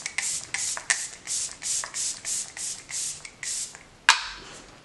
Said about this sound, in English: I'm just going to spray this down with my mouth closed this time.